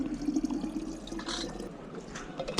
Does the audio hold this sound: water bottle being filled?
yes